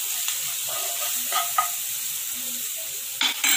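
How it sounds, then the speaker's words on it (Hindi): Green chilies with turmeric fry in a pan, a steady close sizzle with a few scraping strokes as they are stirred. "बस हमें इसे अच्छे से फ्राई कर लेना है।"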